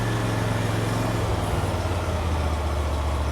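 A John Deere Z950M zero-turn mower engine drops from a higher throttle to a lower, steady idle drone, loud and close throughout the short stretch, with no talk.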